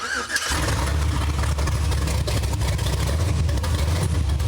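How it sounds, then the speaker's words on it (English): A loud Chevrolet K1500 truck's 5.3 engine cranks and catches within the first half second, then runs with a deep, throaty rumble through open headers, steady and close. "start the engine up just so I can make sure everything runs like it should"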